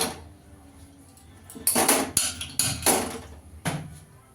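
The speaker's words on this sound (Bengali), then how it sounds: "কড়াইটা বসিয়ে দেবো।" A metal kadai is set down on a kitchen stove, giving a few loud clanks and scrapes of metal against metal, near and clear, with no talk.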